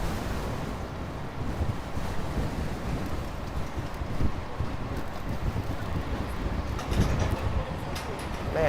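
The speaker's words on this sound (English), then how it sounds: "Man, this wind is strong." Strong wind buffets the microphone while riding an e-bike through Toronto on a Labour Day weekend, a steady broadband roar of gusts and rumble filling the whole stretch with no speech.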